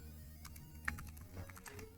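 Quiet, rapid keystrokes clatter on a computer keyboard, a soft irregular run of clicks with one sharper tap, over a low hum.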